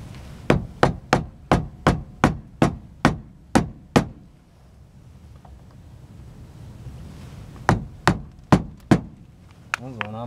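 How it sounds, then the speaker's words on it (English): Rubber mallet whacking plastic clamps onto 2010 VW Jetta splash guards, a steady run of about nine sharp, evenly spaced knocks, a pause, then five more close, loud blows. "Give them a whack with a rubber mallet."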